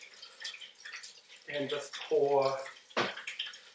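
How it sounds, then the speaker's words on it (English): Lemonade poured into glasses while making blue and pink mocktails, a short liquid splash and trickle heard between bursts of a nearby person talking. "pour some lemonade on them"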